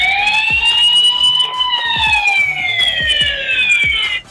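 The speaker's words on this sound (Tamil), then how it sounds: "உங்களுக்கு அலாரம் அடிச்சீங்கன்னா அந்த இடமே உங்களுக்கு அலாரம் மாதிரி உங்களுக்கு சவுண்ட் சரியான சவுண்டா வரும்" A CCTV security camera's built-in siren alarm wails loudly and continuously, its pitch slowly sweeping up and down, over a faint series of regular clicks.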